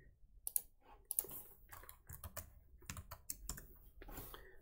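Keys clatter on a computer keyboard as a gnuplot command is typed into a terminal, with quiet, irregular clicks and short bursts close to the microphone and no talk.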